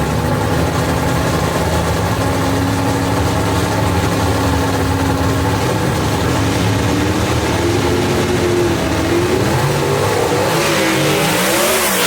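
A gasser drag race car at Knoxville Dragway roars loudly and continuously as it idles and then launches off the line, its engine revving and climbing in pitch.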